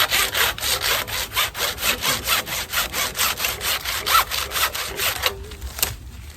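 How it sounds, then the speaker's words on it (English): A hand saw cuts off excess wood at a forest bushcraft shelter, with about twenty fast, even back-and-forth rasping strokes close by that stop abruptly near the end. "we're gonna saw off the excess here"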